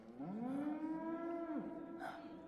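A Gekko unmanned walker lets out a loud, drawn-out bovine moo in Metal Gear Solid 4, a single rising harmonic call lasting over a second that bends down at the end, with faint background game ambience.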